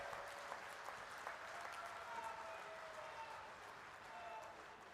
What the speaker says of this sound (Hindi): जोरदार तालियों के साथ में उनका स्वागत करें।